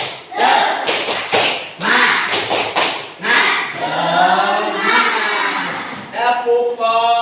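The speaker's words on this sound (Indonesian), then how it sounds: "Biar lebih semangat, kita tepuk semangat." A fifth-grade class at an Indonesian primary school claps and chants a rhythmic 'tepuk semangat' cheer, with loud sharp clap bursts at the start and a sustained group chant that follows, recorded close up in a classroom.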